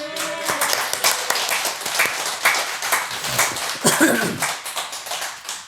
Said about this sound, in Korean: 머리 위로 박수 한번 올려드리겠습니다